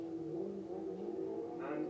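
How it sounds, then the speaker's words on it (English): A Subaru Legacy rally car driven hard on a stage through country lanes in County Antrim near Ballymena, its engine droning and revving steadily at moderate distance. "it's Collin McCray giving the Subaru Legacy its head"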